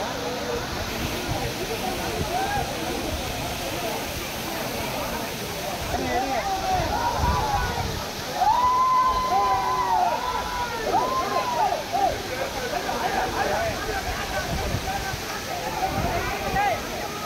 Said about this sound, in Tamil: பாருங்கள் இந்த இடம் தண்ணி இப்படி ஓடிட்டுருக்கு